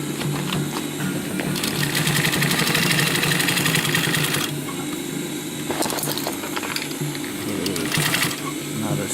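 Sewing machine stitching a rollup pouch, rattling in fast bursts of rapid needle strokes that start and stop several times, with a pause in the middle and a soft mechanical hum underneath.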